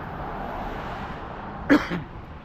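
A single short cough from a man out on a night walk, a brief throaty burst with a small follow-up, heard over steady low background noise.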